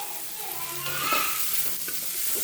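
Oil sizzles in a hot pan ready for an egg omelette, a steady bright frying hiss with faint stirring scrapes, close and continuous.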